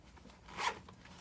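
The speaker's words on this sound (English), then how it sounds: "And then the flap also unzips." A single brief zip as the zipper on the flap of a thrifted bag is opened, close and fairly quiet, peaking midway through.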